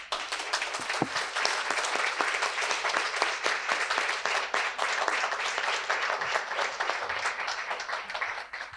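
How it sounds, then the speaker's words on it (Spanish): An audience gives a strong, sustained round of applause at a year-end celebration, dense clapping filling the whole stretch at steady volume with no voices over it. "yo quiero que en este momento ustedes me acompañen en un fuerte aplauso"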